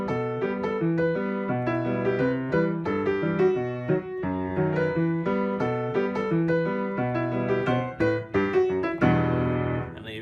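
A piano plays a flowing verse passage from Cuphead with steady chords and melody, solo and clear, ending on a sustained chord.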